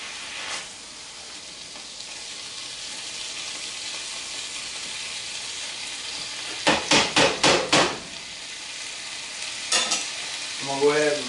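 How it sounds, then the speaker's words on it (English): Tomato paste stirred in a hot pan for chicken jambalaya: a steady background sizzle with a quick run of five or six loud spoon scrapes and knocks, then a few more scattered clatters near the end. "Stirring that around there."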